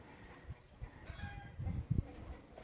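A rooster crows in the distance, a drawn-out call over outdoor background noise with a few low thumps nearby.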